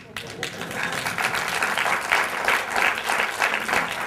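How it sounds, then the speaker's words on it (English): An audience bursts into sustained clapping at a spiritual gathering, starting softly and swelling into a full, even wash of applause that holds for several seconds. "I can listen all of them clapping."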